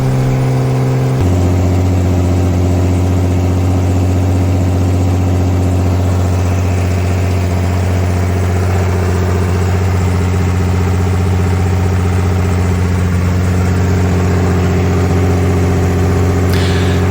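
A Ford 300 straight-six in a 1981 F100 truck runs on open headers, a loud, steady, low droning idle with heavy rumbling harmonics that shift slightly after the first second and hold throughout.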